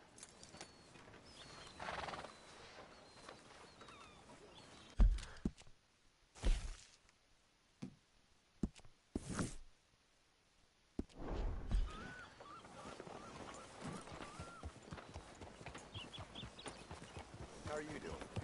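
A horse in Red Dead Redemption 2 whinnies and clip-clops along, with hoof beats at an irregular pace, loud bursts of neighing, and a game character's voice talking over parts of it.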